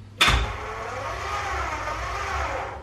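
A Honda Civic EG6, unstarted for two years, is cranked: a sharp click or thump opens it, then a steady mechanical whir and low engine-like hum run on for a couple of seconds without catching into a clear idle.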